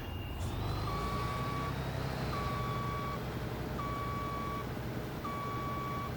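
Truck in the video game Isle of Echo reversing with a trailer: four evenly spaced reversing beeps sound over a steady engine rumble, with no talking.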